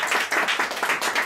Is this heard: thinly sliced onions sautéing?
no